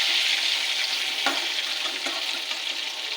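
Pointed gourd (potol) frying in oil, a steady broadband sizzle with brief stirring scrapes, close and continuous without speech.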